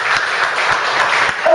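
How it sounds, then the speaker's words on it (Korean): A church congregation claps for the choir during a Sunday service, with steady, close, continuous applause that carries through the whole short stretch. "우리 박수 한번 쳐드려요."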